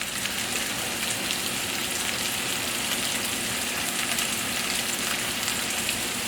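Squash and zucchini sautéing in a pan, salted and peppered, giving a steady, dense sizzle that stays even and close throughout with no talk.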